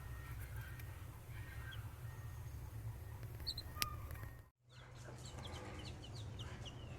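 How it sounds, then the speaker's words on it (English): Newly hatched chicken chicks outdoors give faint, scattered high peeps now and then over a steady low background rumble, with a brief dropout partway through. "And there are the 3 chicks we put out here yesterday."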